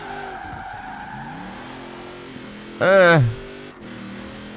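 A 1270-horsepower racing van drifts through a corner, its engine droning steadily before a short, loud surge of revving and tire noise. It settles back to a lower hum afterward while someone talks over it.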